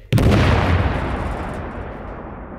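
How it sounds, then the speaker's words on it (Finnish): A homemade thermobaric fuel-air bomb detonates outdoors in one sudden, loud blast. A long rumbling roar follows and slowly fades. "Suomen ensimmäinen Fuel Air Explosion räjähdys pommijätkien"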